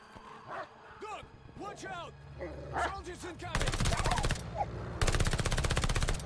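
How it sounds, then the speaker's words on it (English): Dogs bark repeatedly, then heavy sustained automatic gunfire erupts in loud bursts in the Call of Duty Vanguard shooter game, with someone talking over the action. "Freaking dogs, man! Dogs suck in this game."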